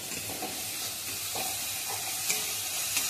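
Spice masala fries in oil before bottle gourd goes in, a soft, steady sizzle with faint stirring scrapes and a couple of light taps near the end.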